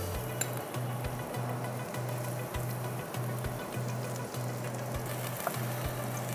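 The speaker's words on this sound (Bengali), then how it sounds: "তেলটা গরম হয়েছে, আমি এখন এর মধ্যে একটু পেঁয়াজ দিচ্ছি।" Chopped onion frying in hot oil in a kitchen pan, a steady, close sizzle that holds evenly throughout with a faint low hum beneath; no talking.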